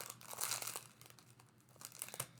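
Gift wrapping paper crinkles and tears in a few brief bursts as a present is unwrapped, faint and close, with no voices.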